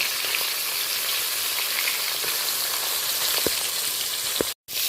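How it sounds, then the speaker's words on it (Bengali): Bhola fish fry in hot oil with a loud, steady sizzle and occasional small pops, the sound cutting out briefly near the end. "ভালো করে নেড়ে চেড়ে মাছগুলো আমি ভেজে নিলাম।"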